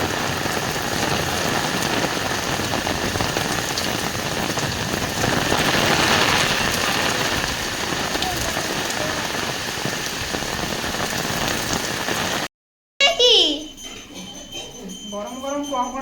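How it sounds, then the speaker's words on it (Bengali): Heavy rain pours down in a thick, constant roar of drops hammering surfaces close by, then breaks off abruptly and gives way to quieter sounds with faint voices. "প্রচন্ড পরিমাণে বৃষ্টি হচ্ছে।"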